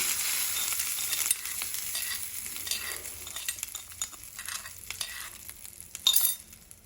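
Sizzling and crackling of hot tempering oil hitting radish masala gravy, with clinks and stirring scrapes, a loud burst of hiss near the end.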